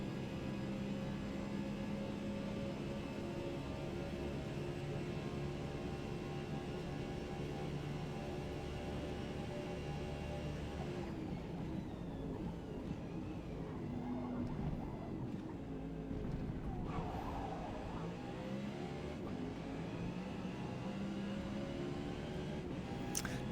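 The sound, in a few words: NASCAR cup car engine driving at Le Mans, racing video game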